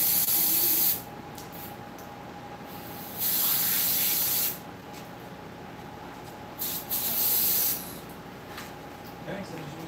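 Latex contact cement sprayed in a workshop, three loud hissing bursts of a few seconds each from nearby, separated by quieter stretches of low background noise.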